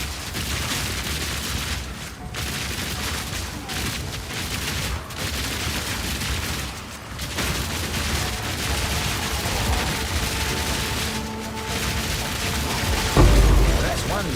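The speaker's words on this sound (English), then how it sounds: "Rapid fire!" Rapid-fire crossbow shots from a Witch Hunter build in Path of Exile 2, a dense, continuous barrage of bursts and booms sustained throughout, loud and busy with a heavier thump near the end.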